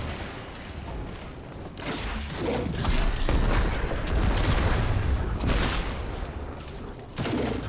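A rocket is fired in Destiny 2 at a barrier champion in the Quarry lost sector. A loud, sustained roar of blasts and rumbling debris rolls on for several seconds, with no voices.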